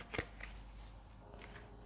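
Tarot cards are shuffled by hand in a brief burst of crisp riffling and slapping, with a sharp snap at the start followed by lighter, scattered card flicks, close and alone without talk.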